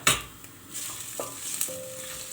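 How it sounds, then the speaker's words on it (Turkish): Onions and garlic sauté in a pan with a steady frying hiss and a few stirring scrapes and clinks, close by, no talking. "Böyle bir güzel önce bunu kavuruyoruz"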